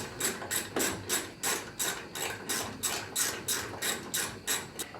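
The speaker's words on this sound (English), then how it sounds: "I can get these two that take forever for the wrench right here" Ratchet wrench turning the door bolts on a 1971 Chevelle during a door install, a steady rhythmic clicking in repeated short pulls, close up with no talking.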